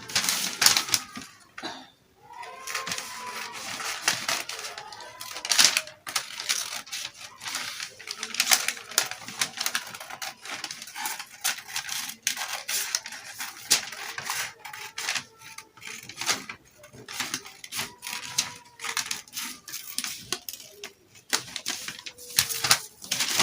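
Paper is cut out by hand along a sketched sleeve pattern during pattern drafting, a long run of close, irregular snipping and rustling clicks with short pauses, and no one talks.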